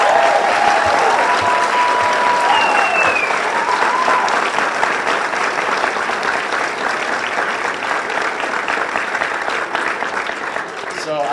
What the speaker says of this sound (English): You need to give them a round of applause for that.